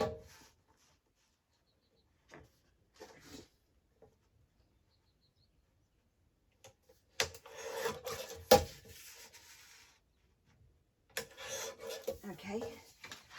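Paper being trimmed to 4 by 6 inches on the floor, with a few faint scrapes early on and then louder rasping cutting strokes in short bursts, separated by quiet gaps.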